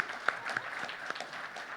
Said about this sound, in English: I think they deserve a little more applause collectively.